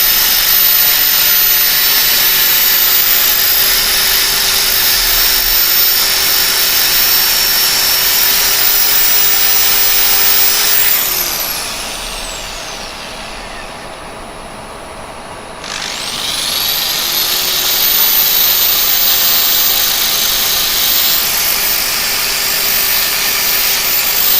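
A spinning lathe whirs with a broad, steady hiss as turned wood is sanded with 320-grit paper, loud and continuous, dipping briefly when the machine slows midway before spinning back up.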